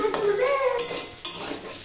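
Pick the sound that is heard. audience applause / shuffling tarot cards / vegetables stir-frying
vegetables stir-frying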